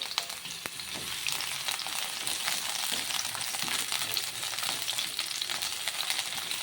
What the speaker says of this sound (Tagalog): Lagyan po natin yung sibuyas.